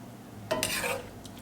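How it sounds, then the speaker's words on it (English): Sloppy joe mixture being spooned onto buns for open-faced serving, a short wet scrape and soft plop of saucy meat lasting about half a second, close and alone, followed by a faint clink. "So just spoon you a little of the mixture right on"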